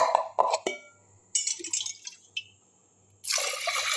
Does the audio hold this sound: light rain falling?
no